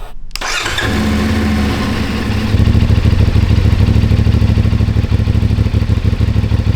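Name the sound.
motorcycle engine starting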